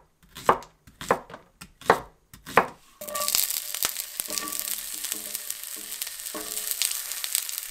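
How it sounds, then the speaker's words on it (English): A knife chops on a board in a few sharp knocks, then shallots, red onion and garlic hit olive oil in a pan and sizzle steadily, close and continuous. "We've got some shallots and a red onion and garlic sauteing in olive oil"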